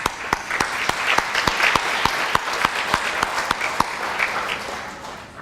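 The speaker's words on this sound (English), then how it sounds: "So that deserves a round of applause." Audience at a school district community meeting applauding steadily, dense clapping filling the room from start to finish with a few sharper claps standing out, no talk over it.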